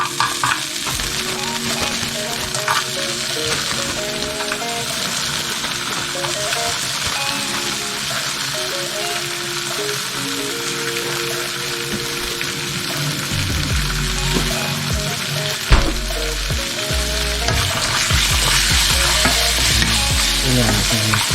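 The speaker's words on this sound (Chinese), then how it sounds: "这样进行翻炒，和炒香。" Chopped onions stir-fried in a pan for curry chicken give a steady, close sizzle with repeated stirring scrapes, holding level for the whole stretch with a steady tonal hum underneath and no talk.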